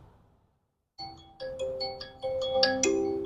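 A vivo Y100 phone speaker plays a ringtone: a melodic run of bright chiming notes that starts after about a second of silence and builds in loudness.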